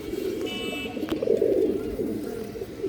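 Low, soft cooing of pigeons, a steady throaty burbling that swells in the middle, with a faint high tone above.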